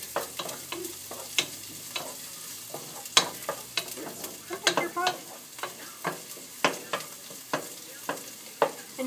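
Garlic frying in a pan of spaghetti sauce, stirred in a quick rhythmic series of close spoon scrapes and taps over a faint steady sizzle, with no talking.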